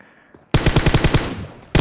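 A rapid burst of automatic gunfire in PUBG Mobile, about eight loud shots in quick succession, then a pause before another shot starts at the end.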